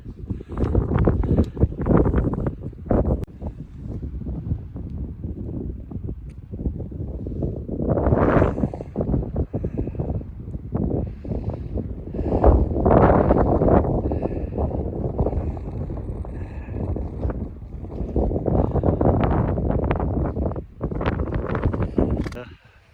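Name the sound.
wind on a winter mountain trail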